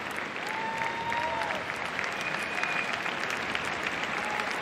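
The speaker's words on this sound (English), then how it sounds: "Plenty of applause from our crowd here in Basel for this final partnership to go in this Grand Prix" Sustained crowd applause fills a dressage arena in Basel at a Grand Prix World Cup event, steady and dense throughout with no gaps, a few faint whistles rising above the clapping.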